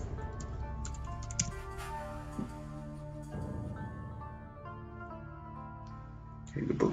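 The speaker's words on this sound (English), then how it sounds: "Let me just type this in then." Typing on a computer keyboard, soft scattered key clicks under a steady background of sustained tones and faint voice, growing busier at the end.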